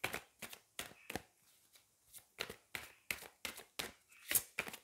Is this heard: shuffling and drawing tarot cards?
yes